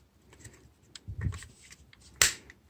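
A single sharp plastic snap rings out near the end as Transformers Starscream toy panels click into place, after a few softer clicks and handling noises in a quiet room.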